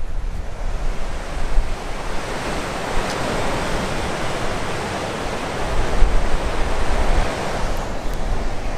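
Strong wind roars across the microphone along with the broad rush of Pacific surf at Depoe Bay, a constant loud wash of noise with gusty swells and no voices.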